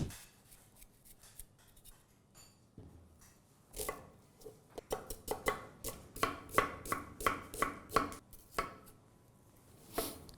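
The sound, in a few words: chopping onion with a knife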